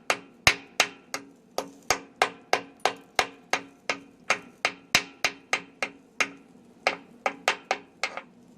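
A hammer chipping slag off a fresh weld on an excavator, about two dozen sharp metallic taps in a steady irregular rhythm, close and clear with no talk.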